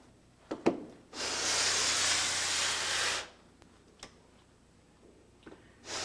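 A steady, broadband scraping hiss of abrasive sanding runs for about two seconds, framed by a few short ticks and taps before and after.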